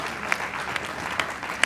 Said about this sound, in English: So let's clap hands for the company.